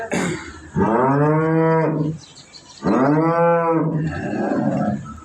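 Cows on a farm, Jersey and Friesian crosses standing in a veranda, give two long, loud, close moos separated by a short pause, with faint background noise between.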